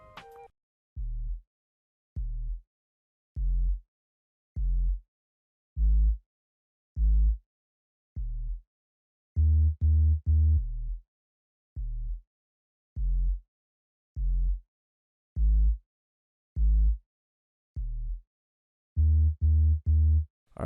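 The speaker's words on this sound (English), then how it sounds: "we're going to be talking about the bass line that we have in this song" Synth bass line from an FL Studio Afrobeats remake of a song, playing a steady pattern of short, punchy low notes in a regular rhythm, with a few fuller, layered chords breaking in, clear and alone.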